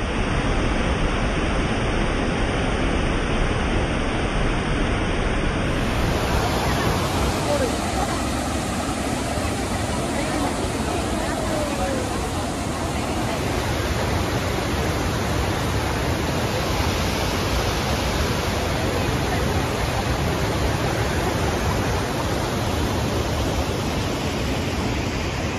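Pykara waterfalls on the Pykara river give a constant broadband rush of water, loud and unbroken throughout, with a faint low engine-like hum underneath.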